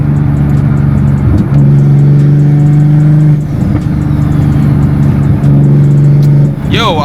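BMW M340i turbocharged engine heard from inside the car while driving, a loud steady drone with a low hum and brief shifts in pitch, and a voice talking over it.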